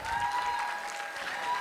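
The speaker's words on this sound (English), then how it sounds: "give all these folks a big round of applause" Steady applause from a crowd at a dinner dance performance, a dense wash of clapping that holds at an even level throughout with a faint tone ringing underneath.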